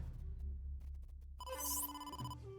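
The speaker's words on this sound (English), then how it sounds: "Oh, phone call." Phone ringtone from the video game AI: The Somnium Files, a steady electronic tonal ring starting partway through over low background music, loud and close with a bright chime sweep near its peak.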